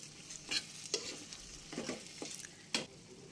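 Potatoes and boiled chickpeas stir-fried with onion and garlic: a soft, quiet sizzle broken by several scraping strokes of a spoon through the pan.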